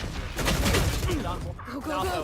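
Rapid Odin machine-gun barrage from a Valorant esports match rattles beneath excited caster commentary, a dense run of shots through the first second before the talk takes over.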